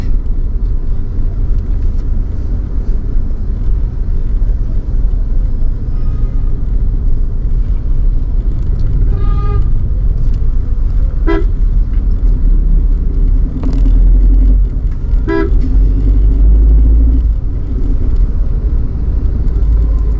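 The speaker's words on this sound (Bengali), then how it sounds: "শহরে ট্রাফিক আছে ভালো।" City road traffic in Kargil: a steady, loud engine rumble from passing cars and the vehicle itself, broken by a few short horn blasts partway through.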